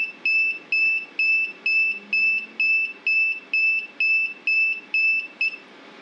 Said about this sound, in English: I've got a program set here just to run the alarm